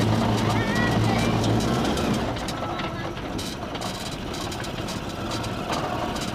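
A homemade mini auto rickshaw's small engine runs continuously as the vehicle drives, a low steady chugging drone that stays even throughout while voices talk over it.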